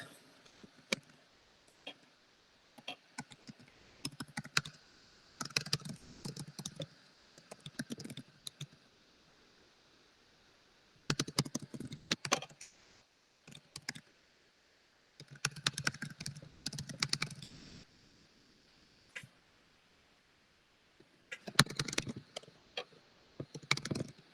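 Close computer keyboard typing in quick bursts of clicky keystrokes separated by quiet pauses, entering item details for an eBay listing.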